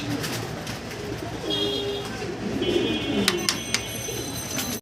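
White Lakha pigeons coo in soft repeated throaty phrases, close by, with faint background noise and a few sharp chirps and clicks toward the end.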